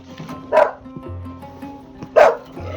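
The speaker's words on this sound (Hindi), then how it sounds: "भाई बड़ा ही खतरनाक कुत्ता लग रहा है" A guard dog protecting its sheep in a rural Kabyle village in Algeria gives two loud, close barks about a second and a half apart, over low background rumble.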